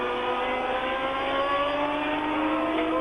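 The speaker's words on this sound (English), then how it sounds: "This is where the cars drift right out over the curbing, as Villeneuve just did." Formula 1 race cars of 1979 at the Dijon circuit in France, heard as a steady, loud high-pitched engine whine with sustained harmonic tones and no pauses, like cars running flat out through a sweeping bend.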